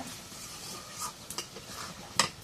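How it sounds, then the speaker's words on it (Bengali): Spice mixture being stir-fried in a pan, a soft continuous sizzle broken by scraping stirs and a few light metallic clinks of a spoon near the end. "এখন এই মশলাটা কষানি হয়েছে"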